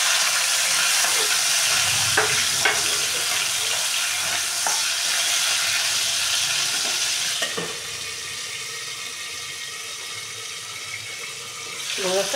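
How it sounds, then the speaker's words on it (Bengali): Prawns fry in a pan with a constant close sizzle and crackle, some brief clinks and scrapes. The sizzle dips softer partway through, then swells again near the end. "এবার আমি চিংড়ি মাছটা ভেজে নেব,"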